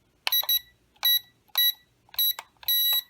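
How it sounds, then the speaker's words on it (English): A Cooau FX-9P brushless GPS drone's handheld controller emits a series of high electronic beeps, close and clear over near silence, in about five bursts with the final tone held slightly longer. "Long beep"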